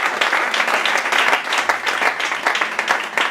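Inside a church, a congregation claps and cheers for Jesus in a steady, loud round of applause that carries on without a break, with no voices on top.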